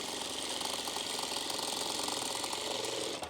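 A sewing machine with a normal presser foot runs continuously while stitching piping cord, a loud, rapid mechanical chatter of needle strokes that holds steady for several seconds before easing at the end.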